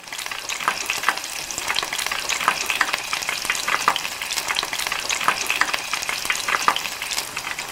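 Shrimp coated in green rice flakes deep-frying in a pot of hot oil until puffed and golden, with a loud, close, continuous bubbling sizzle full of rapid crackles and pops.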